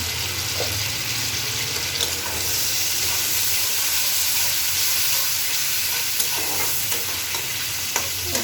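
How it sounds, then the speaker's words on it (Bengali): Garlic frying in oil with potato and eggplant in a pan, a steady broadband sizzle with soft stirring scrapes running throughout, close and fairly loud. "আমি একটু রসুন দিয়ে দিচ্ছি, দিয়ে দিলাম।"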